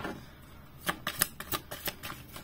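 Tarot cards are shuffled and drawn, giving a quick run of crisp papery snaps and flicks at close range, moderately quiet with no voices.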